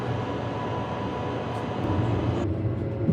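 A Perth suburban electric train running toward Joondalup during a night closure, heard from inside as a steady low rumble and hum of wheels on track, with a whine and a shift in tone partway through.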